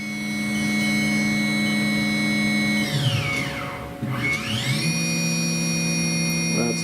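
A Haas VF3 CNC vertical machining center spindle whirs steadily at high RPM, a loud sustained tonal whine that dips and sweeps back up as the speed changes, heard alone.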